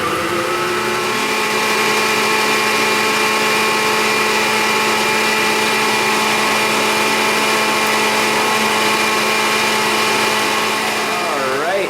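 An electric stand mixer whirs steadily while beating cake batter, a continuous mid-pitched motor hum running close and fairly loud for the whole stretch.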